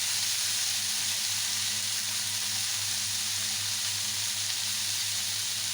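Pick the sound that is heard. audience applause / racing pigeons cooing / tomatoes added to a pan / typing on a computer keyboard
tomatoes added to a pan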